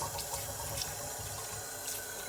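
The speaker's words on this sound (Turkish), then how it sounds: "Şimdi yağımızı böyle soğuk suda yıkayacağız." Cold tap water runs steadily over homemade butter in a sink while it is washed, a continuous close splashing rush with a few brief spattering swells and no talk.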